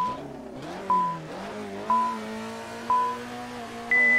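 Alpine A110 1800 Group 4 race car engine in the Assetto Corsa racing game, a rasping drone climbing steadily through the revs, cut by four evenly spaced upshifts that each restart the pull, with a sharp whine near the end.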